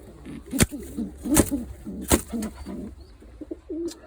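Pigeons coo close by at a bird-ringing session with young squabs and an adult male, soft repeated throaty coos with a few sharp slapping clicks, such as wing claps, breaking through.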